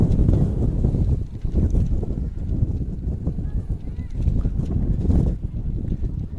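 Wind buffets the microphone in low, gusty rumbles at a high school football game in Oxnard, California, steady throughout, with a voice talking faintly underneath.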